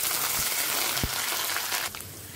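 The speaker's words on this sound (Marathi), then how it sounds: "हे व्यवस्थित सगळं भाजून घ्यायचं आहे" Onion frying in a pan with curry leaves and kasuri methi, a loud, steady sizzle throughout with a couple of soft knocks from stirring, easing slightly near the end.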